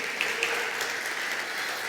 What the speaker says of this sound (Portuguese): Pode aplaudir o nosso